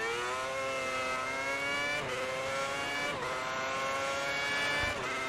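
A Formula 1 car's engine screams in the F1 2010 racing game, holding a high, steady whine that climbs and drops slightly with gear changes, loud and continuous with no talk.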